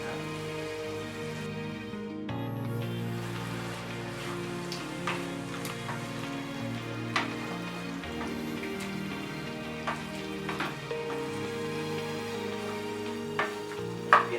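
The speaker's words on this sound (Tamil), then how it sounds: "மீடியம் ஃப்ளேம்லேயே வச்சு நல்லா கறி வேக வைங்க." Chicken chukka simmering in a pan on a medium flame, a low continuous bubbling sizzle with scattered light pops and a few utensil taps.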